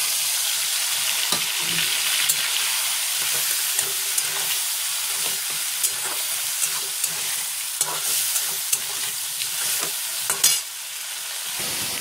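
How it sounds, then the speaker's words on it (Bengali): Potatoes and tomato fry with spices in a pan, a steady bright sizzle punctuated by repeated clicks and scrapes of stirring, close and fairly loud. "আলু ভাজা ভাজা হয়ে গেছে, দিয়ে দিয়েছি টমেটো। এবার দেবো মশলাটা।"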